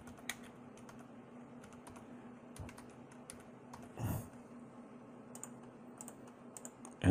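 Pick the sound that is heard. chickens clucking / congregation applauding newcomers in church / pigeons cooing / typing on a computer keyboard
typing on a computer keyboard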